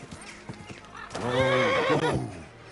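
In the video game Kingdom Come: Deliverance 2, a horse's hooves clop softly, then a loud, drawn-out whinny rises and falls before fading.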